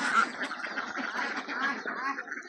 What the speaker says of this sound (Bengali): এই দেন হাঁস